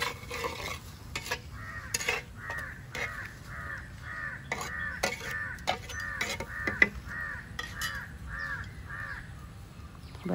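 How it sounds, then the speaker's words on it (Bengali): Tomato puree being mixed into a pan of ingredients for potoler dolma, with a steady run of scraping stirs and a soft sizzle underneath. Bird caws repeat through the background. "এবার এগুলোকে সব একসাথে ভালো করে মিশিয়ে নিলাম।"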